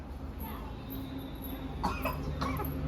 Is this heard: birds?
no